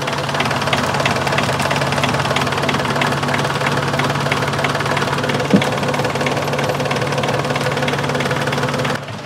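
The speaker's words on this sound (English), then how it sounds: "Let's try the other engine." A sailboat's inboard engine runs at idle while motoring, a steady, loud mechanical rumble with a fast knocking pulse that stays constant, with one brief clunk midway before the sound drops off at the end.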